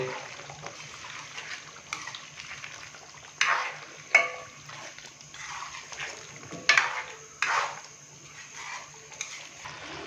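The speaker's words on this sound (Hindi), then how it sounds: "थोड़ा सा पुदीना भी डाल देंगे और अच्छे से इसको मिक्स कर देंगे" Spoon stirring and scraping through Sindhi beef biryani masala as chillies, chopped coriander and mint are mixed in, with wet sizzling under several louder scraping strokes at irregular intervals, no talking.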